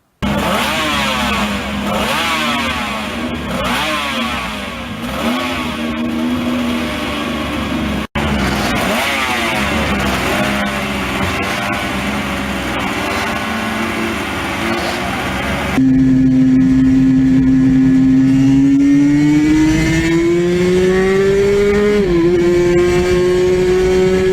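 A high-revving Suter MMX 500 two-stroke racing motorcycle engine screams, revs rising and falling in several bursts, ending in a sustained climbing wail, loud and close.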